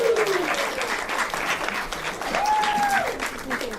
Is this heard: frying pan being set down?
no